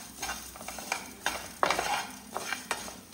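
Rice and coriander seeds fry in hot oil in a pan, giving a soft steady sizzle, with a spoon stirring and scraping against the metal in short bursts, close and fairly quiet, with no talk.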